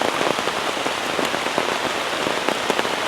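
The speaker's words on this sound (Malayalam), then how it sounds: "മീറ്റിൽ മഴ നല്ല അടിപൊളിയായിട്ട് പെയ്തുകൊണ്ടിരിക്കുകയാണ്." Heavy monsoon rain pours down, a dense, loud, unbroken roar of drops pattering on surfaces with no voices.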